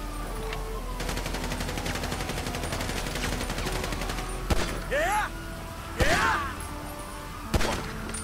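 Gunfire in the video game GTA V: a dense run of rapid shots early on, then separate loud, sharp bangs spaced a second or so apart over steady game background noise.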